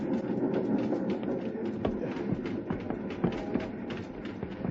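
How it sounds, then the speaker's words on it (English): An old steam train with a wood-loaded tender rocks and jolts over uneven rails in a frontier radio drama effect, a steady rumbling clatter with irregular knocks and bumps running throughout, fairly close and without speech. "The little train jumping, rocking over the uneven rails."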